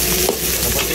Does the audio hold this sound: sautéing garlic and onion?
yes